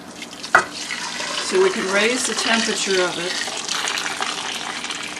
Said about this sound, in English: Your next step is to add boiling water